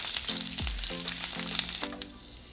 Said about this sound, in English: our other piece of onion. We're going to break it down and throw it in the oil